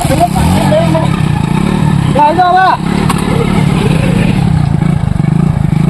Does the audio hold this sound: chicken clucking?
no